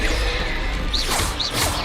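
Confringo blasting spell from Hogwarts Legacy, a loud continuous roar of crackling impact with two rising whooshing swishes near the end, dense and close with no break.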